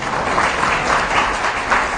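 An audience at a devotional discourse applauds, a steady, moderately loud patter of many hands that continues for a couple of seconds with no talk.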